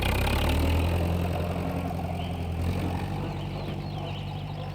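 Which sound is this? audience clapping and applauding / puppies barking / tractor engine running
tractor engine running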